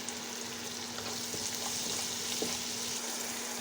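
Garlic paste fries with rice and onion in a pan, giving a soft, steady sizzle at low level, with a faint constant hum and occasional light stirring scrapes.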